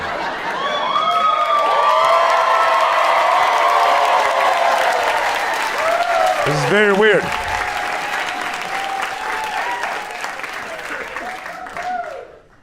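Live comedy crowd at a Burbank show clapping and cheering loudly in a sustained roar, with whoops and shouts mixed in, while someone talks briefly over the noise before it fades out.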